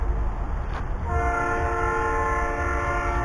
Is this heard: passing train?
yes